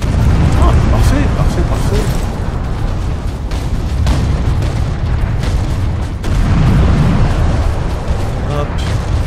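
Bolter gunfire and explosions in the Space Marine video game boom continuously and loudly, with sharp repeated impacts over a dense rumbling battle bed, while someone talks in French over the top.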